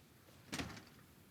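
A single short thud of a car door shutting in the military video game Arma Reforger, one quick muffled impact rising briefly over a low, steady background hum.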